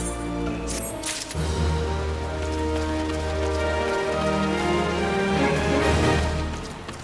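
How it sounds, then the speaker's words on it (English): Steady rain in the online role-playing game Final Fantasy XIV Online, a continuous hiss of falling drops mixed with tonal game music, fairly loud and even throughout. "It's raining."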